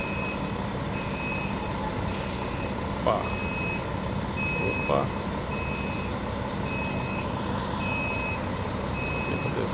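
Emtram coach bus, fleet number 5080, pulling out at the Governador Valadares bus station in Minas Gerais, its reversing beeps repeating steadily over a constant diesel engine rumble, with a few brief voices and air releases.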